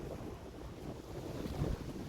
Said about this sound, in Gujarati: દૂરથી હવા જેટલી સરસ આવી રહી છે